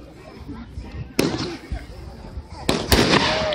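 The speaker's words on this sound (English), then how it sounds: "Mind explosion. It's a 500 gram." A Red Apple Fireworks Mind Explosion 500 gram cake fires at a 2015 demo, sending loud sharp bursts and crackling breaks in quick succession, with people talking and reacting nearby.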